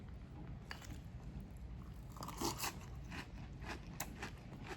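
Close crunching and biting of Cinnamon Toast Crunch cereal, a steady run of small crisp chews with a few sharper bites, quiet and up close.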